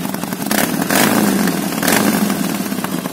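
A Harley-Davidson Iron 1200 motorcycle with new aftermarket exhaust accessories rumbles loudly up close at idle, with a couple of short throttle blips that swell and ease back into the steady, lumpy beat.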